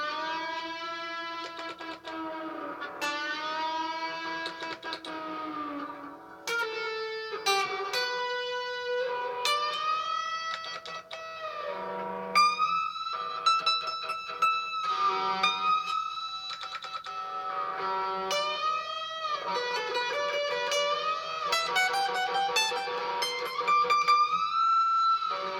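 Lead guitar solo from a song, with sustained bent and sliding notes over a steady low hum, playing continuously at moderate loudness with brief gaps between phrases.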